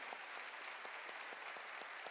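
Steady applause from a congregation at a church sermon, continuous clapping with a dense, even texture and no voices.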